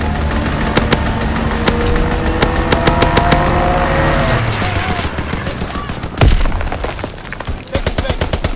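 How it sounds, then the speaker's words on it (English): Machine gun strafing fire in the WWII shooter Call of Duty: WWII, loud rapid bursts crackling over engine drone and battlefield noise, with sharp repeated shots resuming after a heavy blast. "Strafing run inbound!"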